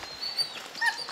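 Hunting dogs give brief yips and whimpering cries while trailing a bear, a couple of short calls heard at moderate distance.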